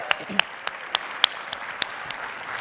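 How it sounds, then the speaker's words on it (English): Audience at a 2018 annual industry conference applauding the sponsors: a thin scattering of separate claps at a loose, irregular rhythm, fairly close and clear, with a faint room murmur behind. "Let's give a round of applause for all of our sponsors."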